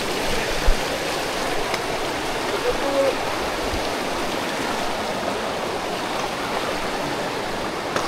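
A jungle river flows along a hiking trail on the way to a waterfall, giving a steady, close rushing wash of water with no letup.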